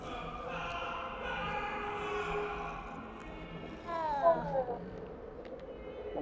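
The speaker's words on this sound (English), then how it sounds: "I knew I heard purring." A cat in the video game Hogwarts Legacy gives a soft purring hum, then a short rising meow near the end, faint and close over quiet game ambience.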